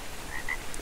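A frog, the Beelzebufo from the video game ARK Survival Evolved, gives a couple of short croaks over a faint steady background ambience, with no one talking.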